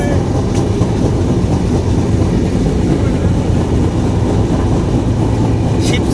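The Intercity Jahanabad Express rushes past on a crossing at Shibchar railway station, a loud continuous roar of wheels and carriages close by.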